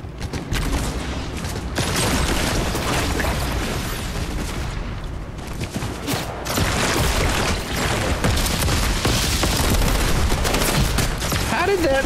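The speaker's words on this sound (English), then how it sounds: "It even exploded in their face." Fortnite gunfight with a rocket or explosive blast, sustained loud rapid gunfire and booms throughout twelve seconds, bursts overlapping with brief dips, with a player's voice occasionally talking over the noise.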